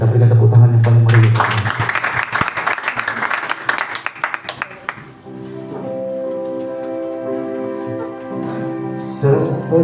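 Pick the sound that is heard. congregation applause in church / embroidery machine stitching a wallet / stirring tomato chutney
congregation applause in church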